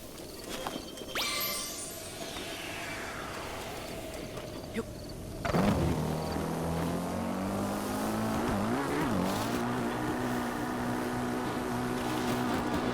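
A motorcycle in Zelda: Breath of the Wild starts with a few clanks and a sweeping whine, then settles into a steady, revving engine drone that rises and dips, with voices talking over parts of it.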